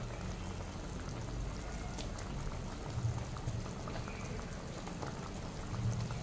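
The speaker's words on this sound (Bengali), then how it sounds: "এই সময়টা আমি আমার চিকেনটাও দিয়ে দেবো যাতে ভালো করে কষে যায়।" Chicken pieces marinated in salt, turmeric and lime juice frying in oil with a spice paste for dudh chicken polao, giving a steady close crackling sizzle with soft bubbling throughout and no voices.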